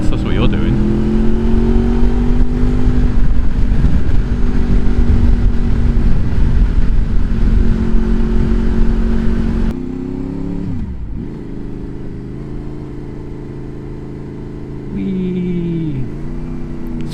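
A Honda VFR motorcycle engine revs and accelerates through its VTEC range, loud and close with rising and falling pitch, then eases off and picks up again, heard from the rider's position with wind noise.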